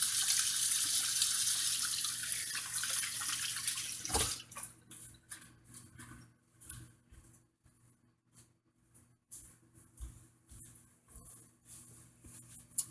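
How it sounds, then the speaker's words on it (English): A sink tap runs steadily in a kitchen while hands are washed, a loud rushing stream for about four seconds. It then shuts off, leaving faint drips and small clinks. "I'm gonna wash my hands really quick."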